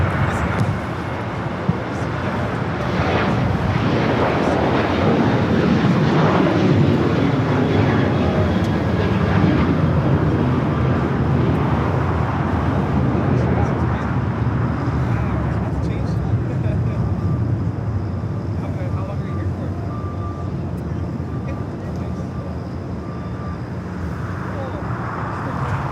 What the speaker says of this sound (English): Was heading to SFO, United Airlines flight 469 at 737-800.